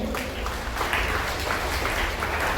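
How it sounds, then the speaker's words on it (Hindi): Schoolchildren and guests clap at a Guru Purnima award ceremony in a school hall, a dense, even patter of applause that carries steadily throughout. "तालियां बजाएं।"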